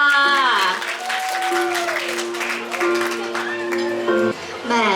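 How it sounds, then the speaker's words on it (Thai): Wedding guests at a hotel reception clap for a video presentation while music plays loudly over them, the applause a busy patter under sustained tones and melody. "ขอเสียงปรบมือให้กับวิดีโอพรีเซนเทชันด้วยค่ะ"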